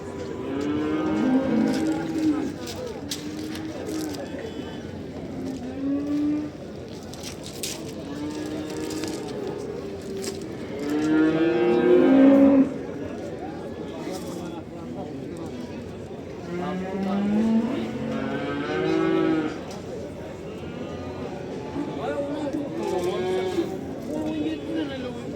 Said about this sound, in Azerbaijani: Orada gedən danalar.